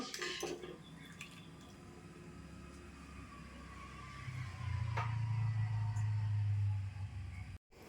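Jaggery melting in water is stirred in a metal pot, giving light clinks and scraping at first, then a low steady hum rising underneath toward the end.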